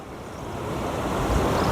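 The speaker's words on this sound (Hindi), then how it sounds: "देखो आवाज भी सुनाई दे आपको बार बार बार बार, बहुत तेज चल रहा है पानी।" Fast-flowing floodwater rushes past a bridge in a flooded village, a loud continuous roar that swells slightly toward the end, with wind buffeting the microphone and no speech.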